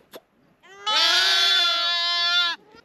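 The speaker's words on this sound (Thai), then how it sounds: "อันนี้จะเป็นเหมือนแพะตัวเล็กนะเพื่อน" A baby goat in a rural Indian pen lets out one long, loud, quavering bleat lasting well over a second, preceded by a faint short call and some soft rustling.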